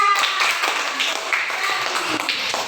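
Schoolchildren in a classroom clap their hands together, a steady, fairly loud patter of many hands lasting a couple of seconds with some voices mixed in.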